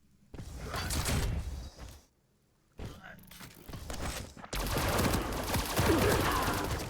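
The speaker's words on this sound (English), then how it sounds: "Goes for the machine gun finisher." Machine gun fire in the arena shooter Quake Champions comes in dense, rattling bursts: one short volley, a brief silence, then longer sustained fire growing louder toward the end.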